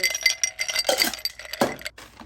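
Glasses clinking together in a toast, a run of bright chinks and clinks close by, with a sharper clink near the end, no voices.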